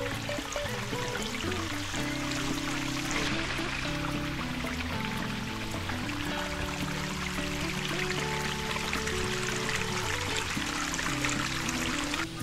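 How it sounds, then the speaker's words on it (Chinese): Cool stream water flowing beside the Zhukengxi hiking trail in Meishan, a steady rushing wash heard under continuous background music. "这里有冰冰凉凉的水流"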